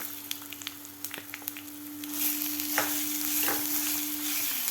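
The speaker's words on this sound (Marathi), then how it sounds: "आता हे सुद्धा आपल्याला व्यवस्थित परतून घ्यायचे आहेत" Ground peas sautéing in a pan make a sizzle that grows louder partway through, with light clicks and scrapes of stirring and a faint steady hum underneath.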